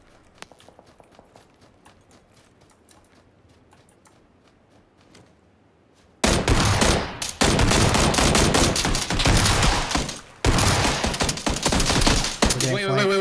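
Rapid bursts of gunfire erupt in a shooter video game, loud and dense automatic fire dominating after a quiet stretch of faint footsteps and movement, with a brief gap before the shooting resumes.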